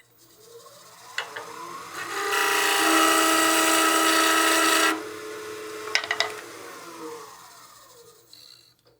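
A wood lathe cuts a wooden block head with a loud, steady rasping shear lasting a few seconds, with lighter scraping touches before and after over the spinning hum.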